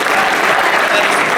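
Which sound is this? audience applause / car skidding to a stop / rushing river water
audience applause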